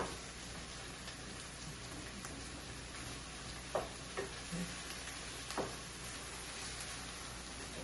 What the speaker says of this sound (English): Saute the little vegetables a little bit.